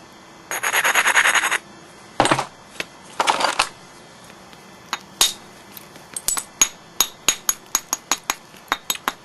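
Flint being knapped to work an edge: scraping rubs and sharp stone-on-stone strikes, followed by a run of crisp, evenly spaced ticking taps, close and fairly loud.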